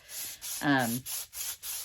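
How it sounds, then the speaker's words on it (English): Rhythmic rasping strokes of sandpaper rubbing on plastic, repeated back and forth about five times, with a brief voice cutting in midway. "Yes, I am sanding the plastic."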